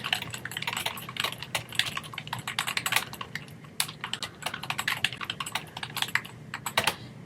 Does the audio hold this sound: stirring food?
no